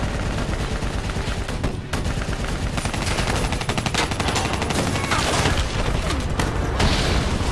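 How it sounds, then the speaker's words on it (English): Dense, loud gunfire and explosions in the Call of Duty: Black Ops III video game as an APC is brought down, rapid automatic bursts layered with heavy booms filling the whole stretch. "Explosion! APC is down!"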